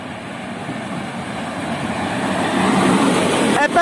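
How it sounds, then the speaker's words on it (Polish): A TLK Wyczółkowski passenger train on the Świnoujście–Lublin Główny service pulls into a station with a broad rumbling roar that grows steadily louder, ending in a brief squealing metallic clatter. "Wjeżdża pociąg TLK Wyczółkowski relacji Świnoujście Lublin Główny."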